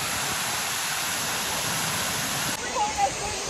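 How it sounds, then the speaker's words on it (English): Water at Adams Waterfall rushes in a loud, steady broadband roar, close by and unbroken, with a brief shift and a faint voice near the end. "So I'm gonna have Josh record me trying to get to the waterfall"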